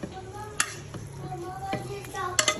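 Fried meat is stirred into haleem in a pot, with a spoon scraping and clinking against the metal several times over a low, soft bubbling.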